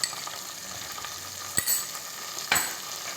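Dragon chicken noodles are stirred with tomato sauce and soy sauce in a hot pan, giving a continuous sizzle with a few sharp utensil scrapes and clinks against the pan.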